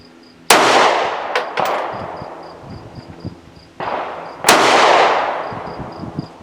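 Two sharp, loud shots from a Mossberg MC1sc pistol firing steel-cased rounds, about four seconds apart, each with a long ringing decay, plus a few brief metallic clacks of the action between them; no one speaks.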